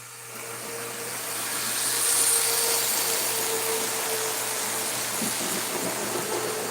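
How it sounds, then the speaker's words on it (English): Very fast model trains race past on a layout, producing a loud whirring motor hum that swells as they approach, peaks, then holds steady with a rattling rush of wheels. "Here comes the very fast trains."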